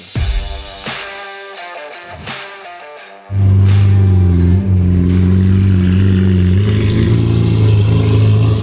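A Lamborghini Aventador tuned to 850 hp, fitted with a larger-diameter titanium exhaust, barks through several sharp revs and blips. It then settles into a loud, rumbling idle that stays close and continuous.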